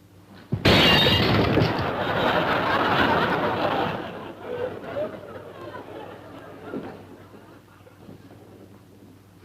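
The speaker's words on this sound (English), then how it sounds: "Did I hear breaking glass?" Glass shatters loudly and suddenly in a 1959 television comedy scene set around a golf swing, a bright crash that fades into scattered tinkling debris while people chatter and laugh underneath.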